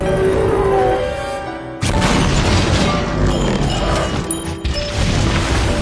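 A movie scene of an alien spaceship being destroyed and crashing into the centre of a town, a loud sudden boom and crash that gives way to a dense, rumbling roar of debris and destruction lasting several seconds.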